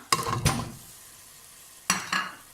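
Keema and tomatoes hit frying masala in a pan, giving two short bursts of sizzle and stirring clatter separated by a quieter stretch of faint frying.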